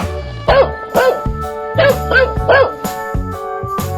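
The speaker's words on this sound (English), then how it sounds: "Dog." A dog barks in a 3D animal video game, giving several short, loud yaps in an uneven rhythm over the game's background music.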